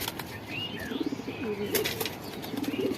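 A pet pigeon near its cage beats its wings in short, close bursts, mixed with soft coos and chirps.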